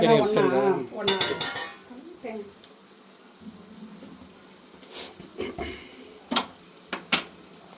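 Onion and grated coconut are stirred in ghee in a pan while cooking sirukeerai poriyal, with a soft sizzle and a few light clinks of the spoon against the pan after someone briefly speaks.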